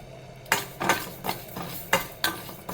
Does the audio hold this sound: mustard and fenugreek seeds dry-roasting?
yes